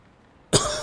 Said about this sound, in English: This cough needs to stop.